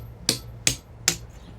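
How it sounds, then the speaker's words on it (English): A chisel hammered against the edge of an engine freeze plug, three sharp metallic strikes evenly spaced about every 0.4 seconds, close and loud with brief ringing decay. "start by taking the chisel and hit it on the edge right here"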